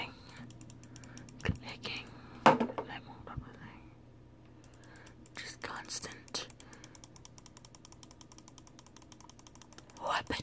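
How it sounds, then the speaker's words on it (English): Rapid mouse clicking during a Cookie Clicker game forms a dense, regular train of small clicks, mixed with whispered speech and a few louder handling knocks, all close to the microphone. "A lot of just quiet moments of just... clicking. Constant."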